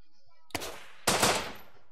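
Two sharp gunshots fired at another player in the video game Rust, about half a second apart, each with a short decaying echo, over near silence.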